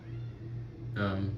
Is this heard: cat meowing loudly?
yes